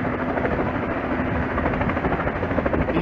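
Helicopter arriving at Vanderbilt Medical Center, a loud, steady rotor thump and engine roar that fills the whole stretch without voices.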